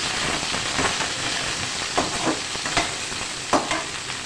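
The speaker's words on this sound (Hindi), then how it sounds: "जब ऑयल आपका गर्म हो जाए तो आपने चिकन को डाल के फ्राई कर लेना।" Chicken sizzles and crackles steadily in hot oil in a wok, with occasional stirring scrapes and bursts of spattering over a constant frying hiss.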